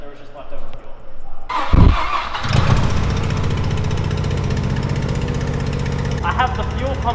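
Mazda RX-7 rotary engine with new turbos cranking and catching on leftover fuel, a brief starter whir then a loud close rough idle that settles into a steady buzzing drone, with people talking over it.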